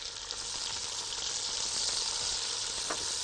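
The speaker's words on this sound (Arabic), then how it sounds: "هننزل البصل دلوقتي، لازم نسمع الصوت ده" Chopped onions frying in hot ghee in a pot for biryani, a steady loud crackling sizzle with occasional stirring scrapes, continuous and close with no talk.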